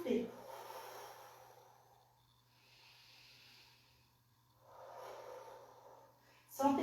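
Slow exhalations during a Pilates exercise, soft breathy gusts that swell and fade in long waves, close and gentle, ending in a sharper snort-like breath.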